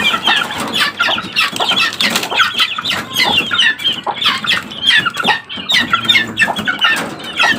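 Young white chickens, past the chick stage, cluck and peep busily together at close range, a dense, continuous chatter of overlapping small calls.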